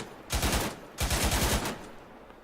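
Two bursts of rapid automatic fire from a vehicle's 25mm cannon in a video game, each lasting about half a second with a brief gap between, loud and close with dense rhythmic reports.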